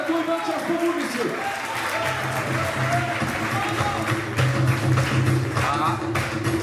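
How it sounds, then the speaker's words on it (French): An audience at a dinner-show event claps continuously, a dense steady round of applause with some crowd murmur and a voice speaking underneath, close and sustained throughout. "Je vous demande de les applaudir bien fort."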